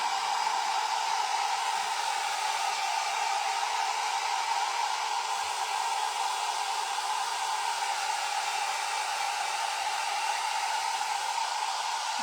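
A hair dryer drying rice paper decoupage on a bottle, a loud, steady whooshing blast of air with a constant whine, running unbroken from start to finish with no voices.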